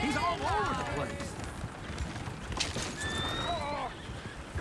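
Horses neigh and whinny in the Red Dead Redemption 2 video game, with galloping hoofbeats and clip-clop running underneath, fairly close and moderately loud, along with faint game voices.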